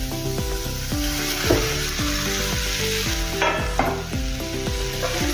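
Fried potato pieces sizzling in a pan for an aloo fry sabji, a loud steady hiss close up, with a few brief scrapes as they are tossed in oil.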